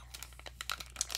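A baseball card pack being torn open, a brief run of crinkly foil-wrapper rips and crackles, close and fairly quiet.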